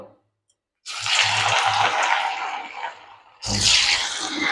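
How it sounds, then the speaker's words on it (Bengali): Fish pieces drop into hot oil in a wok, each set bursting into a loud, close hiss that begins abruptly after a moment of silence, dips slightly, then flares again. "তেল বসিয়ে দিয়েছি কড়াতে, তেল গরম হয়ে গেছে। এবার আমি মাছগুলো দিয়ে দিচ্ছি এর মধ্যে।"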